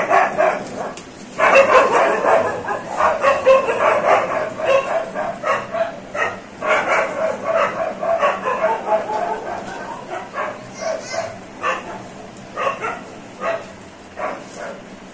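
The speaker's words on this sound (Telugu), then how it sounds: "ఏందా కుక్కలు గోల?" Several dogs bark, yip and whimper close by, in rapid, uneven bursts that keep going with hardly a pause.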